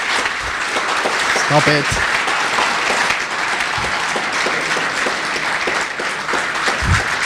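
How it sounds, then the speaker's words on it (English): Audience applause at a Ruby programming conference talk, a steady wash of clapping filling the hall for several seconds, with a brief voice speaking over it. "Yes, more clapping."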